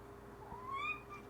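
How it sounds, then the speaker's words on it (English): A pet cat named Elmer gives a single short, rising meow, fairly soft and close in a quiet room, with no one talking. "there's Elmer saying hello. Elmer the kitty."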